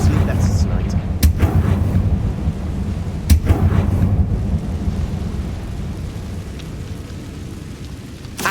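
Confringo fire spell blasts in Hogwarts Legacy hit with several sharp, booming cracks, followed by a heavy rumbling roar that fades slowly, thunderlike and loud.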